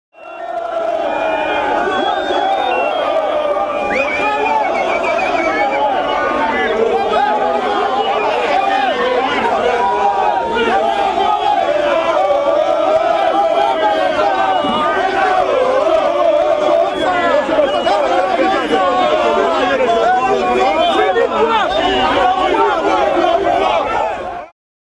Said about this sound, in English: acknowledged cheers from the crowd